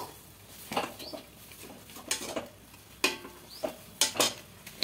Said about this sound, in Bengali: এবার সেদ্ধ করা আলুটা দিয়ে দেব, দিয়ে খুব ভালো করে মিশিয়ে নেব।